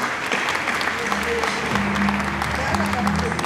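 Audience applause at the solemn opening session of the Côte d'Ivoire Bar, a steady dense clapping that fills the room, with faint voices and a low tone underneath.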